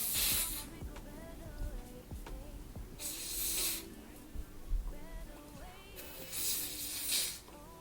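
Hair spray hisses from a can onto a lace wig in three separate bursts, each about half a second to a second long, with quieter handling sounds and faint murmuring in between.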